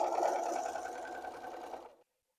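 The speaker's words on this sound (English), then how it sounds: "we're just stretching and sewing along the inside edge" A sewing machine stitches steadily along the inside edge of a sheet being converted into a fitted sheet, a close, continuous whirring that runs for about two seconds and then stops abruptly.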